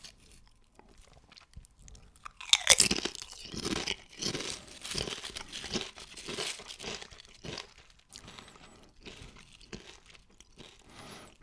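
Cheese-powdered Doritos and Crunchips Stadionwurst crisps are eaten close up: a loud burst of bag crinkling and tearing, then a steady run of crisp, rhythmic crunching bites and chewing with no talking.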